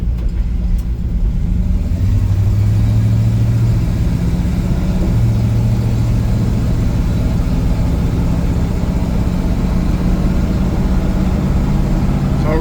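A 1957 Chevrolet 3100 pickup engine drones steadily while driving, a loud low rumble with shifting pitch as it accelerates and cruises, plus road and wind noise.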